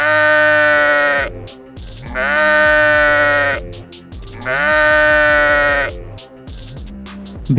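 Three long, wavering bleats from a sheep, loud and close, separated by short pauses; the calls sound voiced and sung, probably a person imitating a sheep.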